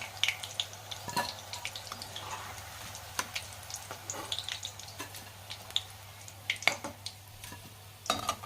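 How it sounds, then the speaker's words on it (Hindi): Chicken donuts deep-fry in hot oil with a continuous soft sizzle, broken by scattered pops and crackles, heard close and fairly quiet. "इस तरह से इसे क्रिस्पी फ्राई कर लेंगे"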